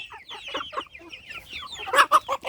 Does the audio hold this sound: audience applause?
no